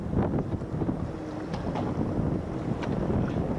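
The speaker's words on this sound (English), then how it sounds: "Try to keep the wind off of it." Wind buffeting a microphone on a fishing boat in sub-freezing weather, a constant loud rumbling roar with gusty swells and no clear voices over it.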